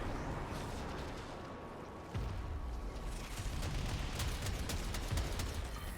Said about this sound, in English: I think the Eidolon is shooting at us.